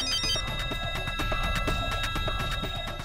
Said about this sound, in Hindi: तान्या का फोन है। हाँ, उठा उठा